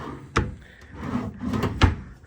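A hotel room drawer slides open and shut with two sharp wooden knocks and a soft scraping slide between them, close and clear in a quiet room.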